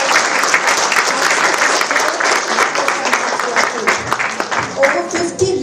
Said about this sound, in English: So big round of applause